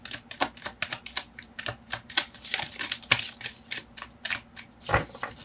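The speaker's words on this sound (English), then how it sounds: "You can fast forward the shuffling" Tarot cards are riffled and shuffled by hand in a rapid run of crisp, papery bursts, some overlapping into longer flurries, close and fairly loud, with no talking.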